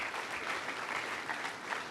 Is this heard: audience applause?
yes